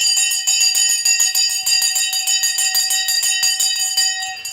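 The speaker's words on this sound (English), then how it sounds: "The bell has gone" A stock market closing bell rings loud and steady, a continuous fast metallic clatter with bright sustained tones lasting throughout, with no voices.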